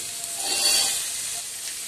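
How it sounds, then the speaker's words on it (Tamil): Small onions sizzle steadily in hot oil for fish curry, a continuous bright hiss that swells slightly midway and carries on alone without any talk. "சின்ன வெங்காயம் ஆயில் விட்டு முதல்ல கொஞ்சம் ஃப்ரை பண்ணிக்கலாம்"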